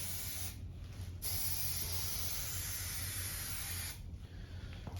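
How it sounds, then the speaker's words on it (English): Continuous hissing spray from an aerosol glue can, close and steady, with two short pauses where the nozzle is released before spraying resumes. "We're gonna spray a bead of glue right around the edge here"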